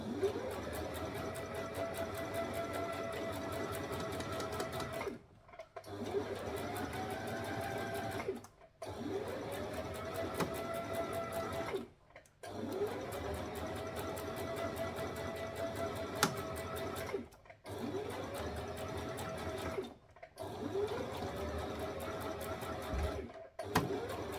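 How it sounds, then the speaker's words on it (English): Sewing machine stitching a dress, running in steady whirring bursts of several seconds each with brief pauses between runs, close and continuous with no talk. "You want to just keep maneuvering the rest of the dress so it's not hindering your sewing."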